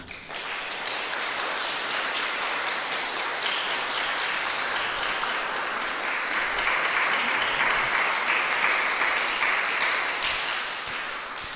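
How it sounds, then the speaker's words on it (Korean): Congregation applause during a certificate presentation at a Sunday church service in Dortmund, Germany: steady, dense clapping from a full room that runs unbroken for about eleven seconds at an even, sustained level. "뜨거운 박수 부탁드립니다"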